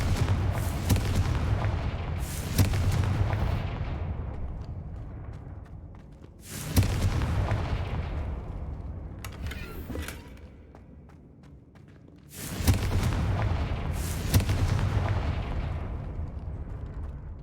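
Confringo spell explosions in the Hogwarts Legacy game, several heavy booming blasts with long rumbling decays, some arriving in close pairs, separated by quieter stretches.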